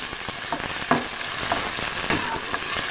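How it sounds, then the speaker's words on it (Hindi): Sliced potatoes sauté with ginger garlic paste in a pan for a spicy methi aloo dish, a steady close sizzle broken by a few scraping stirs, no voices present. "खूब अच्छी तरह हम इसको भूनेंगे।"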